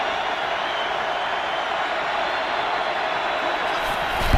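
A football stadium crowd at an NFL game roars steadily for a third-and-one play, a dense, sustained wash of noise that holds loud and level throughout.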